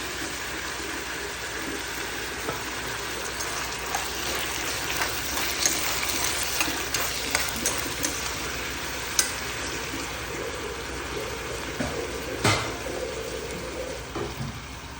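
Mullikai vegetable sauteing in a pan: a steady close sizzle with scattered scraping stir strokes and a sharp clank near the end, with no voices.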